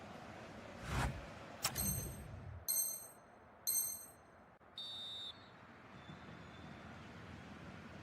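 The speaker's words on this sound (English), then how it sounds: "The referee's whistle, and so the first half has come to an end." A referee's whistle ends the first half of an eFootball video game match, sounding as a few short, shrill blasts in a row over quiet crowd ambience.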